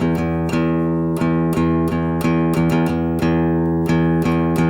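An open guitar string rings steadily while it is strummed in a rhythmic pattern of mostly downstrokes with an upstroke, roughly a dozen crisp attacks over a sustained tone, close and clear with no talking.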